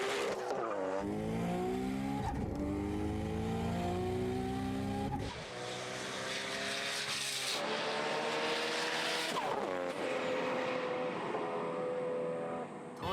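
A tuned Nissan GT-R accelerates at full speed in a roll-race, its engine climbing loudly through repeated rising sweeps with gear changes at each break, close and dominant with no speech.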